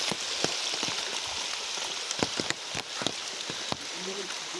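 The first monsoon rain pours steadily at night near a stream during a crab-catching outing, as a dense hiss with scattered sharp drips and taps close by.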